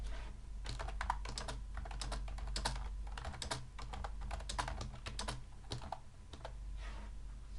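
Keys clatter on a computer keyboard as a query is typed, quick irregular bursts of close, crisp clicks running steadily throughout with no talking.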